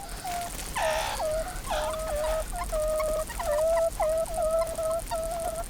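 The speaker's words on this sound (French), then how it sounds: "Les petits font des gazouillis pour communiquer avec leur papa." Young bird chicks call to their father with a quick series of repeated short chirps, steady and fairly close against a constant outdoor background.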